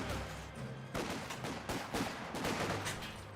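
Infantry squads exchange gunfire in the WWII strategy game Company of Heroes 2, with overlapping rifle and machine-gun bursts in a continuous, moderately distant fusillade. No one speaks over it.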